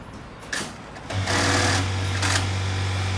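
A button-attaching sewing machine runs in a busy shirt factory, first with a few short mechanical clicks, then settling into a steady loud motor hum that continues to the end.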